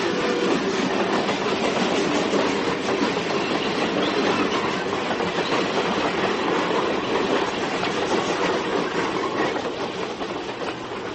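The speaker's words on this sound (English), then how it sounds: "the train entered a tunnel" Steady, dense rumble of a train running through a tunnel in a radio drama, a continuous roar with faint clickety-clack of wheels, loud and close throughout, easing slightly toward the end.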